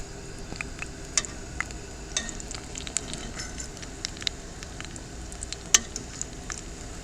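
Biscuits sizzle in a cast iron pan on a Coleman stove, a soft steady hiss dotted with sharp little pops and crackles, fairly close and quiet with no talking.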